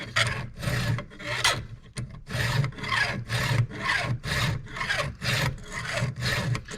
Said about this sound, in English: I'm only filing in the filing direction.